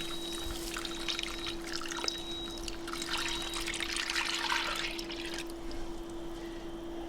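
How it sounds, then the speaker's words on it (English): Milk is poured into a cooked-down roux for mac and cheese. A soft, steady trickling pour runs for several seconds over a faint constant hum, fairly quiet and close, with no talking. "I'm going to add the milk."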